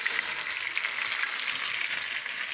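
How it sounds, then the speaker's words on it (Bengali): Fish roe frying in a pan gives off a steady, close sizzle that holds at an even level through the whole short stretch, with no voices over it. "আমার মাছের ডিম ভাজা প্রায় হয়ে গেছে।"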